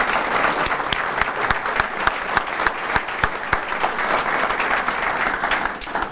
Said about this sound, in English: Can we give our sponsors a round of applause for their support?